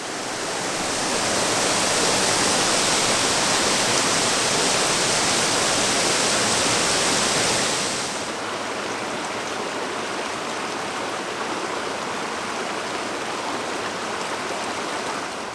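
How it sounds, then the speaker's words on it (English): Steady, loud rushing water roars without a break at the top of a mountain waterfall in Colorado, a broad hiss that drops slightly in intensity partway through, with no voices. "here is the tippy top of the actual waterfall itself"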